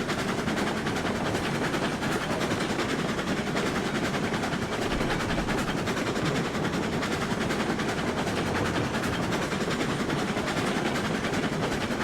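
A locomotive in the video game Railroads Online runs on rails with a constant, loud, dense rumble and clatter that never lets up, with no voices.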